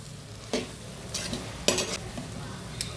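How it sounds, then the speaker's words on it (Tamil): Indian gooseberries being stirred and roasted in a pan on a low flame, with soft scraping strokes of a spoon and a faint steady sizzle underneath, close and quiet. "அடுப்பை சிம்மில் வச்சுட்டு வறுத்து எடுங்க அடி பிடிச்சிடக்கூடாது தீஞ்சிடக்கூடாது"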